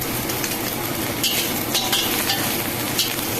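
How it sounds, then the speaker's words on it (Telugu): Chicken pieces dropped into hot oil with green chillies for chicken fried rice, frying in a pan with a dense, close sizzle and a few bright spatula scrapes as they are stirred. "ఇప్పుడు బాగా ఫ్రై అయిన తర్వాత చికెన్ పీసెస్ వేసుకుంటున్నాను"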